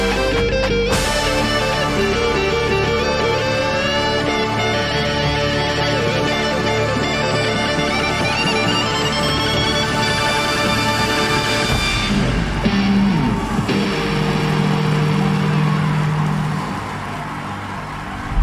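The Troopers drum corps at DCI 2024 play an amplified electric guitar solo, with sustained distorted notes and bending lines over a dense, loud band texture that thins toward the end.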